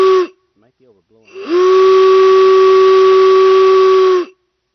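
A steam whistle blown with compressed air gives a loud, steady tonal blast of about three seconds after a short initial toot, with an airy hiss around the pitched tone, ending abruptly.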